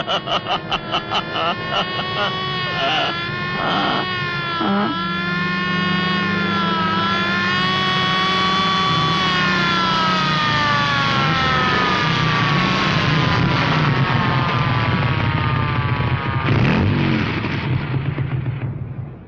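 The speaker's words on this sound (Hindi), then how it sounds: "और ये सायरन है, ये कर रही है पुलिस हवा से बातें।" A police siren wails close by, rising and falling in long sweeps, with a rumbling engine and other noise underneath.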